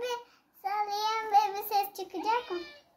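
A talking toy baby doll gives out a few short, high, sing-song electronic voice phrases, close and fairly loud, with a brief pause after the first.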